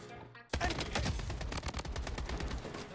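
Quick bursts of gunshots in the online shooter game Bloodstrike begin abruptly after a short quiet lead-in, then run as sharp, close, rapid-fire cracks that continue to the end.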